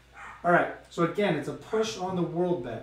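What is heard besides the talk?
dog barking upstairs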